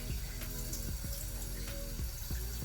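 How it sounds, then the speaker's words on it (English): Rice rinsed in a pot under a running kitchen tap: a steady stream of water with soft repeated sloshes and knocks from the pot. "you can see by how clear your water is getting from out the pot once you're washing it"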